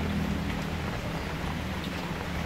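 Steady rain falls in a home setting, a soft, even hiss with no distinct drops standing out, moderately quiet, continuous throughout and without any voices.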